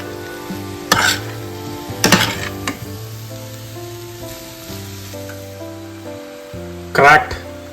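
Long beans and beaten egg being stirred in a hot pan, with sizzling frying and a few louder scrapes of the utensil against the pan, alongside a steady background tone.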